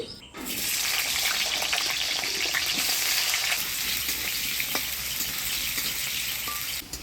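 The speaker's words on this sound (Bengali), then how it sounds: "মোচা ঘন্টার জন্য আলু ভেজে নিই।" Potatoes frying in hot oil for mocha ghonto, a steady loud sizzle that begins after a brief quiet start and runs continuously with faint scraping and bubbling.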